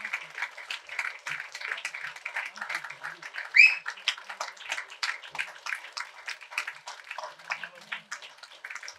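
An audience at a ceremony where actor Karthi honours members of the Uravugal Trust claps steadily in a dense, even patter of many hands, sustained for several seconds at moderate loudness.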